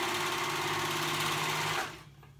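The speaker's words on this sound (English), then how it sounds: "And now I'm going to sew the 2 ends together" Sewing machine stitching two ends of fabric right sides together for a 70s-style top: a fast, steady mechanical whirring run that is loud and close, then winds down and stops near the end.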